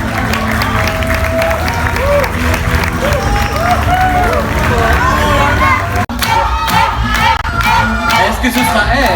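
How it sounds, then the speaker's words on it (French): Audience applause and crowd noise for contestants at a Miss T France 2022/23 pageant evening, loud and sustained with busy crowd babble throughout and a brief break midway before the clapping and cheering surge again. "Bravo, on peut les applaudir très fort."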